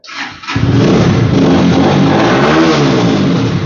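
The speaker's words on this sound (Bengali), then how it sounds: "এই বাইকের সাউন্ড থেকে শুরু করে সবকিছু স্মুথ" A GSR Movie Star motorcycle engine catches after a brief crank, then revs loudly and steadily up close for a few seconds, heard alone.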